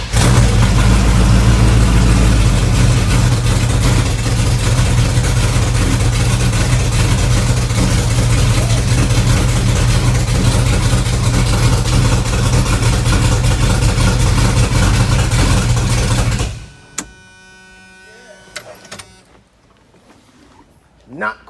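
A cammed small-block V8 fires up and revs loudly with a choppy, lumpy rumble for about sixteen seconds, then cuts off abruptly, leaving quieter clinks and handling noises.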